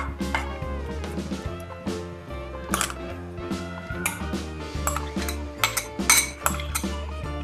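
A spoon mixes chopped raw mango with garlic and ginger in a bowl for garlic raw mango pickle, making close, irregular clinks and scrapes of metal against the dish, with several sharper knocks and no voices.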